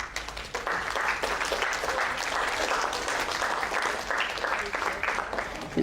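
An audience of girls at a caricature education talk claps in a sustained burst of applause, with voices mixed into the clapping before it tails off near the end.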